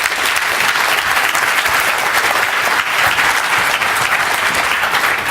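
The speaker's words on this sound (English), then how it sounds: "let's put a big round of applause to the vendors," A conference keynote audience applauds in a loud, dense, sustained clatter of many hands that holds steady for several seconds with no voices on top.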